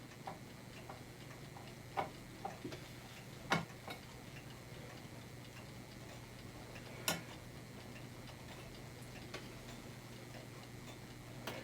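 A small clock ticks in a quiet room, a faint, even tick-tock with a few louder clicks and knocks scattered among the beats.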